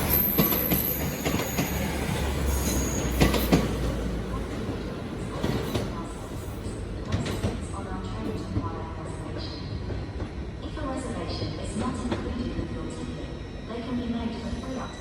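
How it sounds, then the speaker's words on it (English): A Northern passenger service from Morpeth to Carlisle, a ScotRail class 156 diesel unit, pulls out through Newcastle station with a steady rumble, wheel squeal and rail clatter, while a platform announcement and voices carry over it. "Passing out now is the 1723 Northern service from Morpeth to Carlisle"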